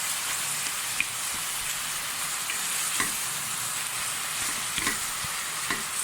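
Stuffed-pepper and moussaka filling is mixed into fried onions in a pan, a steady close sizzle with occasional light taps and scrapes of the utensil.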